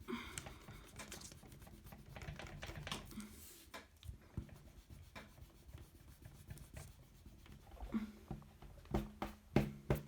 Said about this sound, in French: Hop, on peut gommer.